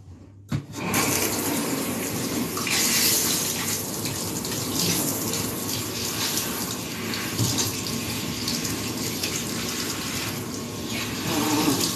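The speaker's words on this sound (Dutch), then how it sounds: "Dus ik ga even het water aanzetten." Tap water runs steadily for a dog's wash, a continuous broadband rush starting abruptly after a brief pause and holding near and loud to the end, with no talk over it.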